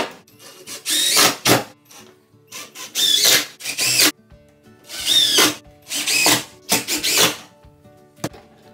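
A power drill drives screws into pallet wood slats while building a pallet sandbox, heard as several close, loud bursts of whirring, each lasting about half a second to a second, separated by short pauses.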